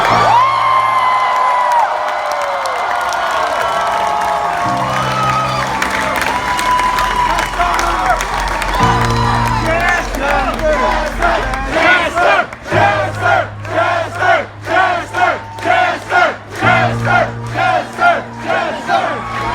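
A large crowd at a live concert at The Fillmore Philadelphia roars and shouts together, then breaks into loud rhythmic chanting in steady pulses over a low musical drone.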